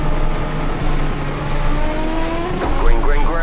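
Legends '34 Coupe race cars at Lanier National Speedway in iRacing, their engines droning loudly as they accelerate, with rising whines and a sweeping pass-by at the end.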